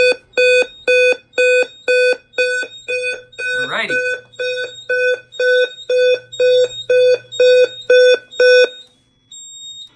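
A Simplex 4003 fire alarm sounds a slow whoop evacuation pattern: loud, evenly spaced electronic tones pulsing about once a second, with a rising whoop sweep near the start and a brief spoken word over it.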